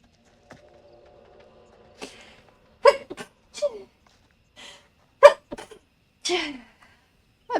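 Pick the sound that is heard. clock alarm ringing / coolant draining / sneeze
sneeze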